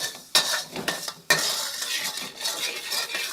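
Marinated chicken frying in plenty of oil in a wok while being stirred, with sharp metal scrapes and clinks over a constant bright sizzle, close and fairly loud.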